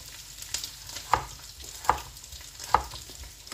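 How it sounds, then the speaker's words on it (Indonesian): Medan anchovies frying with spices in a pan, a soft continuous sizzle with three sharp stirring scrapes at roughly even intervals, close by and with no talk. "Kita goreng ya sampai bumbu matang"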